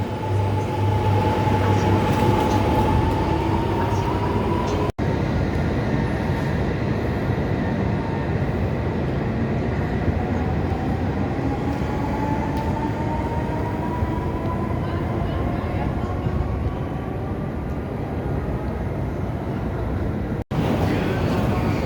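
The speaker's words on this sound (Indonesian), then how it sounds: "lihat kita ketemu kereta barang lagi" A long freight train of tank cars rolls past at a Japanese station, a steady loud rumble and clatter of wheels with a rising whine, continuous throughout.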